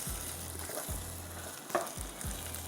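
Chicken pieces frying in a pan for a spicy hoisin chicken dish, with a low, steady sizzle and soft scraping strokes as the pieces are stirred around. It is fairly quiet and close.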